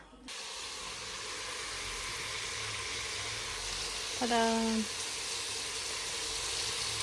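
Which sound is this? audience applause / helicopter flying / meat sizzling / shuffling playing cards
meat sizzling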